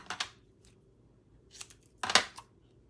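Scissors snip through a strip of foil for a hot foil stamping system, giving a few quick, crisp cuts in separate bursts with quiet gaps between them and no talking.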